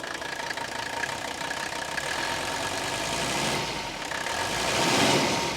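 A high-mileage Mercedes engine idles steadily up close, a continuous mechanical hum with a faint tapping texture, holding an even level with a slight swell near the end.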